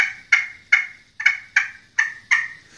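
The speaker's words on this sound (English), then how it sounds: "He gobbles, okay?" Repeated turkey gobbles, seven sharp bursts in steady succession, each a rapid rattling warble that falls away quickly, fairly close and clear with no talking.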